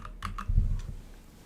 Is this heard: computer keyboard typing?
yes